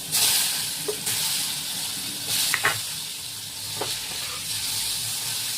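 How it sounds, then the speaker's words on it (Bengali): Pointed gourd pieces rubbed with salt and turmeric frying in a pan with cumin give a continuous hissing sizzle, with a few short knocks and scrapes as they are stirred. "পটলগুলো একটু ভেজে নেবো।"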